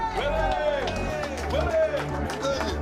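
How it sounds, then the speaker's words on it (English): A crowd cheers and claps right after a group finishes singing at a live roast event, with continuous voices, whoops and applause that hold steady and close throughout. "Everyone's cheering for Willie."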